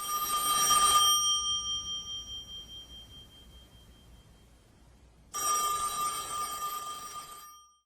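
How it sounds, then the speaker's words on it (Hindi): A mobile phone rings from inside a house, a bright electronic trill in two bursts separated by a fading pause, clear and moderately loud with no talking. "घर के अंदर से मोबाइल की घंटी बजने की आवाज सुनाई दी।"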